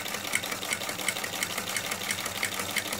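Singer sewing machine fitted with a buttonholer attachment stitches a narrow buttonhole, giving a steady, rapid mechanical chatter with an even rhythmic tick. The whirring runs close and constant, and no voice is heard.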